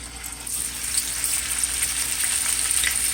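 Jamaican bammy cassava cakes frying in a pan of oil, a continuous even sizzle with light crackling throughout, close and fairly loud.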